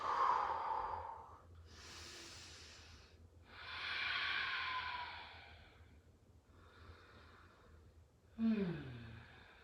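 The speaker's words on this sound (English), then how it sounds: "So I gotta breathe deep." Slow, deep breaths during a winter yoga stretch: several long, soft inhales and exhales follow one another close to the mic, ending in a brief sharper breath.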